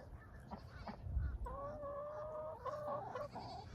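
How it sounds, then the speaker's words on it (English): Ducks and chickens close around, with clucking and honking calls rising over a steady farmyard background, several overlapping bird voices toward the end. "I am surrounded by ducks and chickens."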